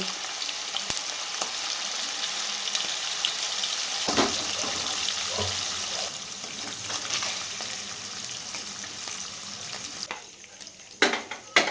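Paneer fries in oil in a pan, a continuous loud sizzle with intermittent stirring scrapes and a few sharp knocks near the end.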